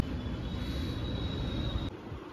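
A metro train runs with a steady, loud rumble and a thin high whine held throughout, dropping slightly near the end.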